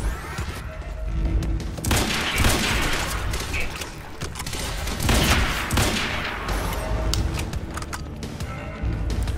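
Weapon fire in the video game Quantum Break, with loud, dense bursts of rapid gunshots and booms that repeat almost continuously and fill the whole stretch at close range.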